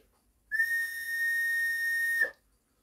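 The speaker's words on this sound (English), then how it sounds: "a elder whistle with a willow fipple piece" A hand-carved elder whistle with a willow fipple sounds one steady, bright sustained note for about two seconds, close and loud, then stops abruptly.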